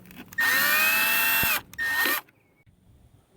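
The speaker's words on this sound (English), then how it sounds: "you gotta take all these little screws out." Power drill backing small screws out of a Jeep cowl panel, a loud high motor whine in one long burst and a shorter second burst, close up, then quiet.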